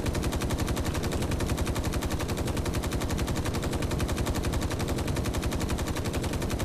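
Rapid automatic gunfire in the video game Space Engineers rattles on without a break, loud and close, as a dense machine-gun stream with no talking.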